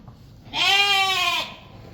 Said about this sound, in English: Risey, did you look at the sheep?